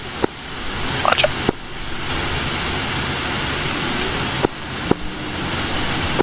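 A jet engine spools up in the DCS World video game, a steady loud roar and whine holding throughout, broken by a few brief clicks and thumps from the cockpit.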